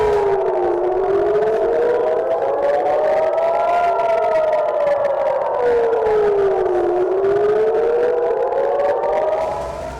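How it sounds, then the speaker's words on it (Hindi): Air raid sirens wail during a rocket attack on Israel, a loud rising-and-falling howl sweeping slowly up and down without pause, with no voices. "सायरन की आवाजें सुनाई देने लगी थी।"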